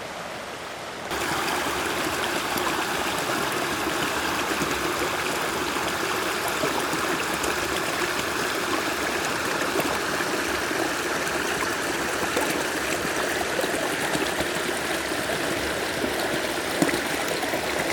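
A mountain creek along a steep hiking trail rushes and burbles steadily, a loud, close, continuous wash of flowing water with no voices over it.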